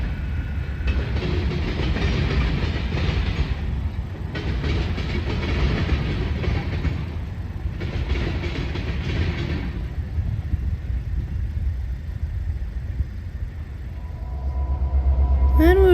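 A freight train led by a Kansas City Southern GE locomotive, trailed by a CP GE and an NS AC44C6M, rumbles by in daylight with a continuous low roar and recurring bursts of rail clatter, close and loud throughout.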